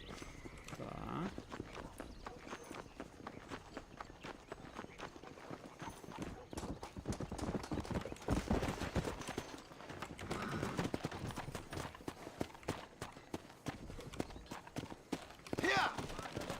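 Hoofbeats of a galloping horse in Red Dead Redemption on PC drum in a steady, rapid clip-clop throughout, close and clear, with voices speaking faintly beneath.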